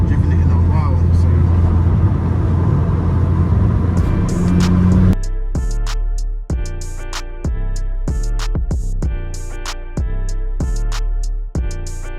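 A Vauxhall Corsa VXR on a drive, heard from inside: a loud, steady engine and road drone, later mixed with rhythmic, beat-driven sounds in the cabin.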